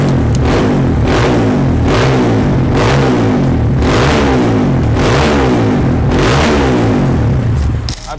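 A motorcycle left unstarted for months revs repeatedly through its exhaust, about seven rising throttle bursts in a steady rhythm, loud and close.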